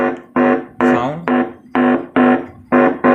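Music playing at low volume late at night through a repaired 1600–2000 watt double-zone DJ amplifier, a rhythmic pattern of strong tonal pulses with short gaps, fairly loud and clear with no talking.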